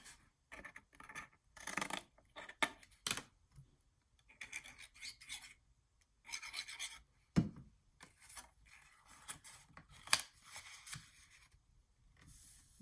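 Close, quiet snips and rasping cuts through paper for a mini album come in irregular bursts separated by silent pauses, with a few sharper clicks between them.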